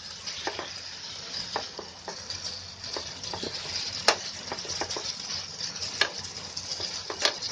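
Chicken frying in a pan for a green hariyali chicken dish crackles with a continuous sizzle, while a utensil stirring it makes repeated sharp scrapes and clicks close by.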